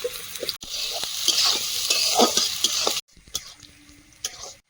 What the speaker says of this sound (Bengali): এবার ফাইনালি চাউমিনটা ভাজা হবে